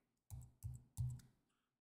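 Three distinct mouse clicks while working in Adobe Illustrator, evenly spaced and close, each a sharp low thump with a bright edge, then quiet.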